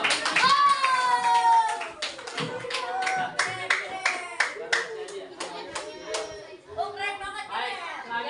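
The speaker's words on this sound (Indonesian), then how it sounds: "tepuk tangan untuk kelompok 1." Classroom clapping for a student group during a teacher training session, a burst of claps mixed with children's voices and chatter throughout.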